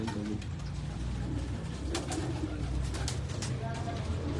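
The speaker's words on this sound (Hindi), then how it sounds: "ये बेसिकली तो कमगर कबूतरों में से है, कसूरी कबूतरों में से है" Kasuri pigeon cooing close by in low, repeated soft coos, with chirpy bird calls and general background noise around it throughout.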